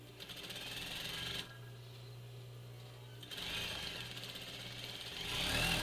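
A sewing machine stitches the centre seam of a fabric medical mask, running in two close, fairly quiet bursts of rapid whirring with a brief pause between them.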